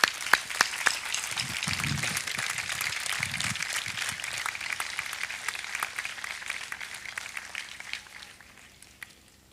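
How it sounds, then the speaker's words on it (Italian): Crowd applause at the opening ceremony of the Palio di Feltre, a steady dense clapping from many hands that sustains for several seconds before tapering off at the end, heard alone without speech. "E suggeliamo con un applauso."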